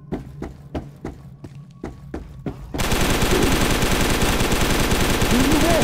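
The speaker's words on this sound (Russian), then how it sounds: "Откуда у него автомат?" Automatic rifle gunfire from the video game SCP: Nine-Tailed Fox: a few separated shots at first, then a loud, sustained rapid burst of fire close by that carries on to the end.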